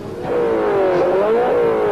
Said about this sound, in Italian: avviano i motori